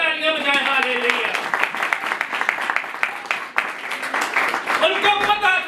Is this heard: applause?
yes